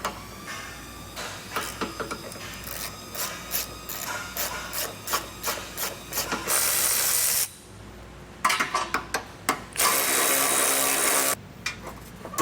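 Flange nuts holding the bumper beam of a 2020 Volvo XC40 being loosened with a 15mm socket, a close series of rapid ratchet clicks in bursts, broken by a couple of longer steady whirring stretches.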